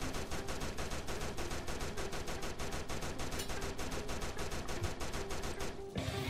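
Tommy gun fire in the game Devil Nuns With Tommy Guns: a long, loud, evenly spaced stream of rapid shots that runs steadily for about six seconds, then cuts off abruptly, with no voices over it.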